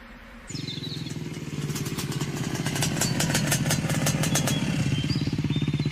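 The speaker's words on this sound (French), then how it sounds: "Il est à moto sur un terrain accidenté" Motorcycle riding over rough terrain, its engine kicking in abruptly and then running with a rapid, rattling throb that grows louder and rougher, close and continuous with no talking.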